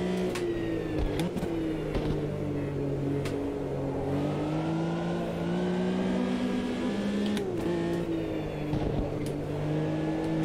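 A vintage Porsche 911 engine in the Automobilista 2 racing game drifts continuously, its steady mid-range drone wavering in pitch as the throttle shifts, loud and constant throughout with no talk.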